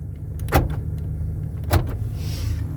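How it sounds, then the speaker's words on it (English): Power window motor on a 1985 MC, a steady close whine with two sharp clunks as the glass starts and stops. "We're gonna do our window, and then we're gonna put it up from this side."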